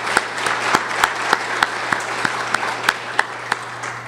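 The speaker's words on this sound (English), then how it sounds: "a round of applause for putting this together" A lecture audience applauds at the 2022 Buchanan Lecture, a steady wash of clapping with one close, sharp clap repeating at an even, quick beat throughout.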